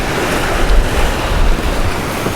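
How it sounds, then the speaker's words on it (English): Ocean waves rush and wind roars around a sailboat running dead downwind in about 17–18 knots of breeze at 7–8 knots of speed, a dense, continuous loud wash with low rumbling surges. "We have about 17, 18 knots of wind."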